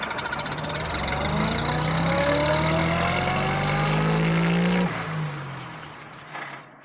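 Postman Pat's post van pulls away, its engine humming and rising in pitch for several seconds, then cutting to a softer, fading rumble as it drives off.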